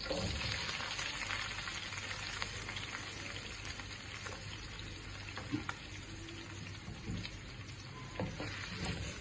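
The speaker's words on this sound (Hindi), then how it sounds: "मैं प्याज़ों को 4 से 5 मिनट तक हिला लूँगा और प्याज़ों को मैं सॉफ्ट कर लूँगा।" Chopped onions and green chillies fry in a pan for okra, with a steady, moderate sizzle and occasional stirring scrapes throughout, no voices.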